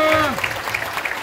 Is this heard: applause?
yes